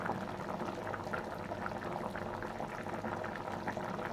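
Small hilsa fish curry with taro simmering in a pot, a soft continuous bubbling and gurgling, faint and close, with no talk.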